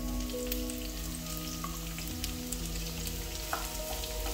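Onions frying in a generous amount of cooking oil in a hot pan, giving a steady, close, even sizzle with faint crackles and light stirring, with no talking.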